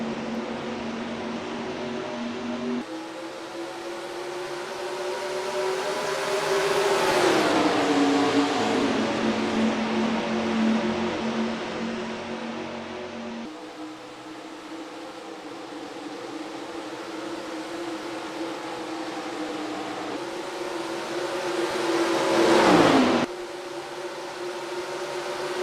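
Stock cars race at Rockingham in the NASCAR Racing 2003 video game, their engines making a steady droning roar that swells and dips in pitch as the cars pass, with no voices.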